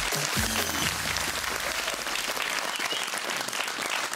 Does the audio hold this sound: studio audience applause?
yes